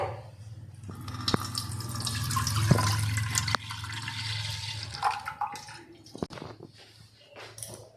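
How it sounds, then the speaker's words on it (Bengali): Around 500 grams of milk pours into a pressure cooker, a steady liquid rush for a few seconds that trails off into drips and light clatter, close and fairly quiet. "এই যে একটা প্রেশার কুকার নিয়ে নিয়েছি এর ভিতরে দিয়ে দেব দুধ নিয়েছি পাঁচশো গ্রামের মতো এই দুধটা দিয়ে দেব"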